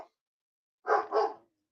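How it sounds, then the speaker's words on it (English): Two quick dog barks in a row, fairly close and clear, after a short moment of silence. "Dogs."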